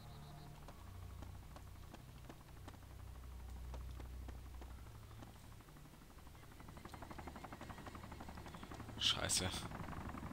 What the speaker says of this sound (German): hören wir wieder den Heli